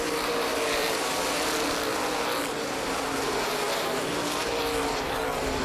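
Race cars roar at full throttle on a half-mile dirt speedway during a green-flag restart, a dense, continuous engine drone held loud and steady throughout with no voice over it.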